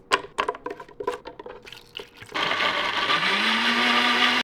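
An electric kitchen blender switched on after some clattering handling, then a loud, steady whirring drone that rises slightly in pitch as the motor spins up, with no voices.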